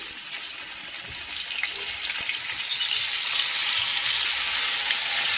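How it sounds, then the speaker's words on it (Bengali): Fish head dropped into hot oil for a Bengali bitter greens dish, giving a steady broadband sizzle that swells slightly and holds loud and close throughout, with no talking. "তেলের মধ্যে মাছটা ছেড়ে দেবো।"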